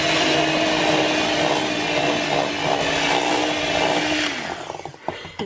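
Cocoa and instant coffee mixture with stevia whipped in a bowl by a steady electric hand mixer, a continuous close whir that runs for about four seconds, then slows and stops with a few clatters.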